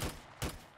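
A gun fires in a zombies video game. Two sharp, booming shots land about half a second apart, each cutting off quickly, with no talking.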